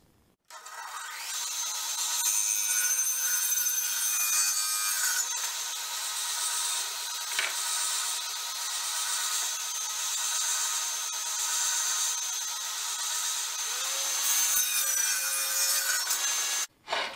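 A saw cuts a 38-inch wooden board for the seat of a farmhouse bench, a loud sustained rasping whine running steadily for about sixteen seconds before stopping abruptly, with no talking.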